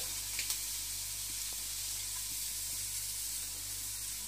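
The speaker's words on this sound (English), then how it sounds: "So now to the same vessel I am adding these finely chopped onions" Finely chopped onions sizzling in a cooking vessel after eggs were fried in it, a soft, steady hiss with a couple of faint clicks near the start, close and alone.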